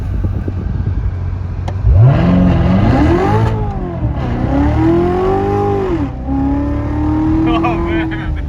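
A Corvette C7 Z06 revs and accelerates hard, its engine note sweeping upward through several gear pulls, loud and close as if heard from inside the car, with voices talking over it.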